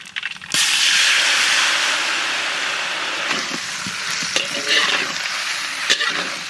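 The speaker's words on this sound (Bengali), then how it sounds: "ফোড়নে দেবো তেজপাতা, গোটা শুকনো লঙ্কা, সরিষা" Bay leaf, whole dried red chillies and mustard seeds hit hot oil for tempering, a sudden loud burst of sizzling that holds steady then eases slightly, with scattered pops and crackles.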